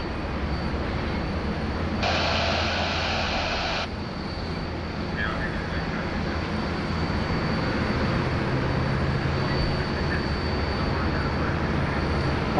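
An airliner takes off from runway 34 left at Sydney Airport, heard as a steady, broad roar that carries on for the whole stretch, with a brief brighter surge early on.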